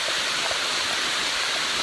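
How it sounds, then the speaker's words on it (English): Heavy rain falling steadily on the Appalachian Trail, a dense, even wash of hiss with no talk, continuous and fairly loud for the whole stretch. "I won't have to set up my tent in the pouring down rain."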